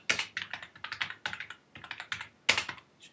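Keys on a computer keyboard clatter in quick, uneven bursts of clicks separated by short gaps, close and clear with no voices.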